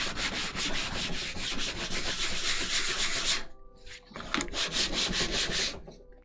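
Sandpaper of 320 grit scrubs lacquer off a shiny surface in steady, close, rhythmic back-and-forth strokes, broken by a brief pause before the rubbing resumes.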